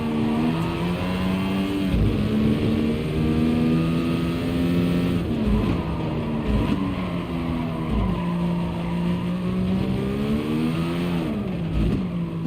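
A race car engine in the GT Sport video game revs loudly and continuously, its pitch climbing and dropping sharply several times as gears are shifted down and back up.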